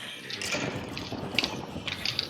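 Water poured from a bucket in a video game, a continuous splashing liquid wash with small metallic clicks, moderately loud and close, alone without talk.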